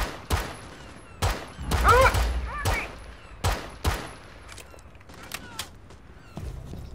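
Gunshots ring out in a multiplayer shooter game, several sharp separate cracks spread over a few seconds with brief bursts between, close and loud, with some chatter and game sounds around them.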